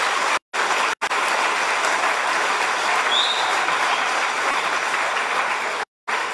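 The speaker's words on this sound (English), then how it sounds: "I think they deserve another round of applause." An audience gives a school commissioning ceremony's students another round of applause, a dense, steady wash of clapping that cuts out briefly a few times.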